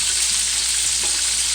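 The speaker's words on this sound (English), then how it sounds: "I want it to keep frying, but I think that it needs to be at a lower temperature" Chicken frying in a pan over medium heat, a steady close hiss of sizzling oil without pause.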